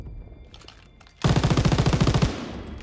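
A loud, rapid burst of machine-gun fire in a WWII video game, roughly a dozen evenly spaced shots lasting about a second after a quieter stretch of background game noise.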